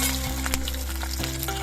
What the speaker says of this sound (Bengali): এবার এই তেলটা গরম হয়ে যাওয়ার পর এর মধ্যে আমি নারকেলের পিসগুলোকে ভেজে নিচ্ছি।